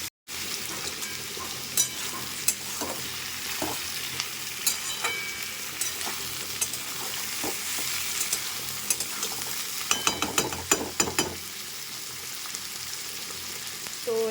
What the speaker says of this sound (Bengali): আর একটুখানি ভাজবো